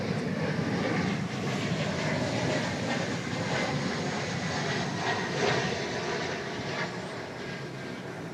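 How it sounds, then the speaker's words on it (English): An American Eagle Embraer E-Jet airliner passes at Dallas/Fort Worth Airport, a steady, loud broadband engine roar that holds throughout with no talking. "Here comes an E-Jet from El Paso, Texas."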